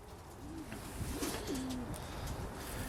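Classic old frill pigeons coo softly inside a coop, giving a few low, rolling calls over a steady hum of background noise, with no one speaking.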